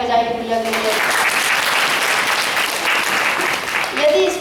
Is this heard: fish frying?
no